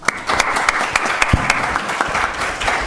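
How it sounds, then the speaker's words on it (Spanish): A lecture audience welcomes a doctor with strong applause, a thick burst of clapping with a few sharp individual claps standing out near the front, steady and fairly loud. "Recibamos, pues, al doctor Jesús Contreras Ugarte con un fuerte aplauso"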